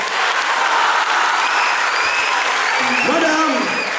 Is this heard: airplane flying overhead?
no